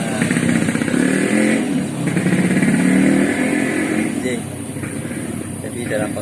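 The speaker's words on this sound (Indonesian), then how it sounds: "ada motor bisa lewat." A motorcycle engine drones past outdoors, rising and fading at a moderate distance beneath continuous conversation in a podcast recording.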